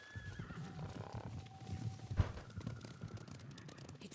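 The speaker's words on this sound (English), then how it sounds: "Horses, they're coming for us." Horses from the Ghost of Tsushima video game neigh and whinny amid clip-clopping hooves, with a louder thud partway through and game ambience throughout.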